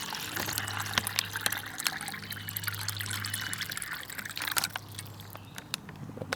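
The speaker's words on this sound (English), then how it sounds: "Put the 12 ounces of water in here." Water pours into an MRE hot beverage bag, 12 ounces of it, from the 2011 Menu No.6 Beef Patty ration, which has a torn bag. It makes a steady close trickle with some splashing and a low hum underneath for about six seconds.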